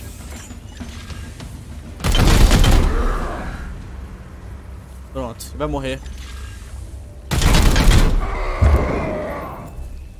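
Gunfire in the video game Warhammer 40,000: Chaos Gate - Daemonhunters, two loud bursts of heavy shots with mechanical clatter between them, while someone talks over the action.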